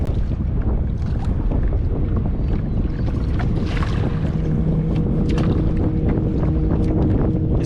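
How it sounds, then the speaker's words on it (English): Strong wind roars steadily across a microphone on a kayak out on a lake during summer kokanee fishing, a dense continuous buffeting rush with faint water sloshing beneath and no talking. "This wind is killer right now."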